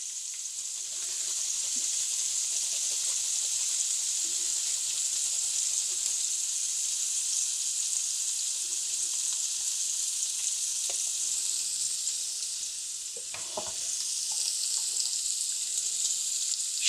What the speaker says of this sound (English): Shrimp, once they're cooked, turn them over on one side, take them off the heat